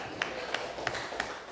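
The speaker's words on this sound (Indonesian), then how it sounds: "tepuk tangan untuk kelompok 1" A classroom group claps for the first group of students, heard as about five evenly spaced claps in a steady rhythm over a constant background hiss.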